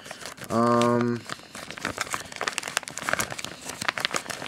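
Plastic wrapping held by a rubber band crinkles as it is handled, with close, irregular crackling running through most of the moment after a brief vocal sound.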